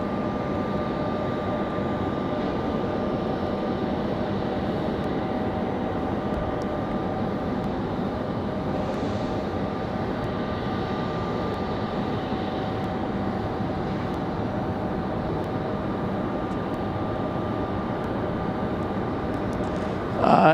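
An Airbus A220 airliner at Raleigh-Durham International Airport gives off a steady, moderate jet engine hum with a constant tonal whine, holding even in level for about twenty seconds.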